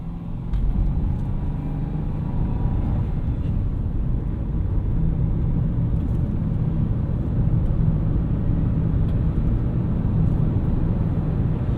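A 2005 Subaru Forester 2.5XS with a manual gearbox accelerating, heard from inside the cabin: a steady, loud low engine drone and road rumble that holds level throughout, with no talking.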